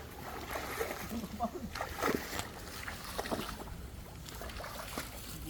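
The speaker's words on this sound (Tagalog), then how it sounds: "Bilis pala maubos ng tubig nito." Water drains and splashes around a fishing spot where mudfish are being caught, with irregular sloshes and splatters close by, some stronger bursts among them, and people talking over the sound.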